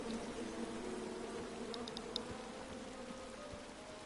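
Bees buzzing in a video game: a steady, dense insect drone runs throughout at a low, even level, with no talk.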